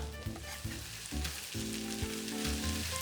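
Smashed garlic cloves sizzling in a hot pan, a steady close frying crackle with intermittent stirring knocks and scrapes, no talking.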